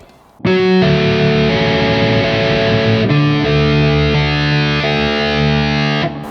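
A heavily distorted electric guitar rings out in sustained, crunchy picked notes of a song intro, loud and close, with a slow, deliberate rhythm.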